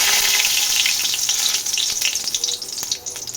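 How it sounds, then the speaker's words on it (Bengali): Dried red chillies in hot mustard oil in a kadai give off a lively, close crackling sizzle with bright spits and pops, easing slightly in loudness toward the end. "কড়ায় একটু সর্ষের তেল দিয়ে দেব। এরপর তেলটা গরম হয়ে গেলে এখানে দুটো শুকনো লঙ্কা"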